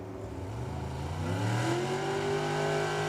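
A Corvette race car accelerating down the track at Firebird Motorsports Park: a loud, steady engine drone with a pitch that climbs smoothly as it gains speed, close by, with no voices.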